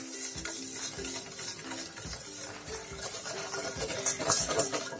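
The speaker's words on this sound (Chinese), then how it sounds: "所以用手把它搅拌均匀" Butter and powdered sugar are being stirred by hand in a bowl while home-baking nut cookies, giving a steady, close scraping and clicking of the utensil against the bowl that repeats throughout with no talk.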